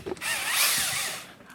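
A power drill fitted with a Makita B-28531 magnetic bit holder spins up briefly, a short close whirring burst that rises and fades within a second or so.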